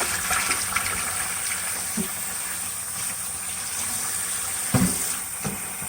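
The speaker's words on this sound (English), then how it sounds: "I'm gonna go ahead and fill it all the way up." Water filling the tank of a Bissell ProHeat 2X Revo carpet cleaner: a continuous hissing rush of flow with a few dull knocks.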